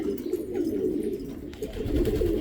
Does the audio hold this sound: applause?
no